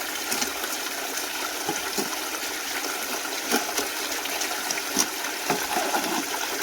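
Water runs steadily through an Adventure Sluice, a continuous hissing trickle with small splashy surges scattered across it and no one speaking.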